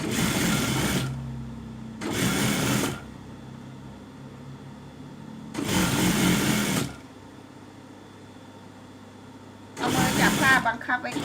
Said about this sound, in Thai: เราก็เย็บ